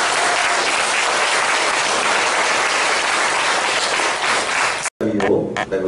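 A crowd at a church worship service applauds loudly and steadily for about five seconds, then the clapping cuts off abruptly and a few faint sounds follow.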